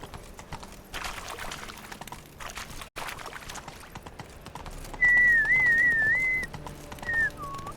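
A person whistles a wavering, melodic tune close by, a clear sustained whistle with a shorter follow-up note, set against rhythmic clip-clopping and light background noise by a campfire.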